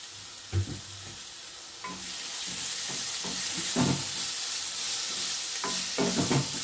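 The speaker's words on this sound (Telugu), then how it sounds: "ఇప్పుడు అది ఫ్రై అయిన తర్వాత టమాటాలు కూడా వేసుకోవాలి." Tomatoes frying in a pan for a Vizag-style fish curry, a soft continuous sizzle with several clattering stirs and scrapes of a spoon, moderately quiet and close.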